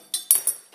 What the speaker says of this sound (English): Pair of pliers and loosen the little screw there.